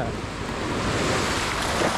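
Ocean surf rolls and washes steadily, close and loud, as a broad continuous rush of waves with wind noise at a beach where people are swimming in the sea.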